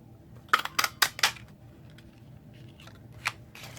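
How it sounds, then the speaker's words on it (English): A Pretty Label Punch cuts through paper with four sharp, close clicks in quick succession, then a single snap and a fainter one after a pause, crisp and near against a quiet room. "I'm going to use this brand new Pretty Label Punch"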